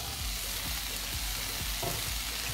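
Mushrooms added to garlic and onion already softened in a pan, sizzling steadily and loudly with a few stirring scrapes, for a Yucatecan achiote dish.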